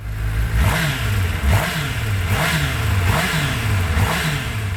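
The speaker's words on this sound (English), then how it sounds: "this Fireblade that, although has a standard exhaust, it emits a somewhat raunchier and louder note" A Honda Fireblade sport motorcycle with a standard exhaust revs repeatedly in rising and falling surges, a loud rasping note that swells about every second over a steady rumble, with no speech.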